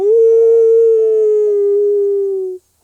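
A person imitates a wolf howl with a single long, sustained, slightly falling voice, close and alone, ending abruptly.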